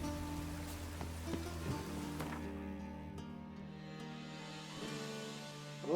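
Steady, soft rain hisses and patters in the video game The Witcher 3, heard as continuous quiet ambience with a few faint thuds and no voices.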